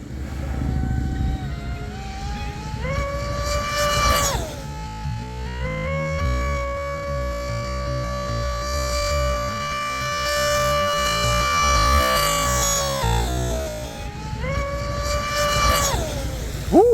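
An RC Dominator boat fitted with a rebuilt, precision-tuned TP Power 4060 electric motor makes a loud, sustained whine that rises in pitch as it passes, drops briefly, then swells again near the end; no talking.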